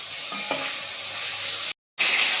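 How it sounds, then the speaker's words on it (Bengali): Fish frying in a pan of hot oil, a continuous close sizzle with a light stir or clink early on, broken by a brief gap of silence before the sizzle comes back. "হালকা করে মাছ দিয়ে দিচ্ছি"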